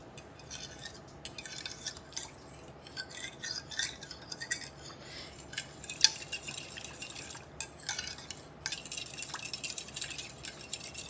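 Yeast mixture being stirred in a bowl, soft repeated scraping and swishing strokes at moderate level for the whole stretch, with an occasional faint clink and no talking.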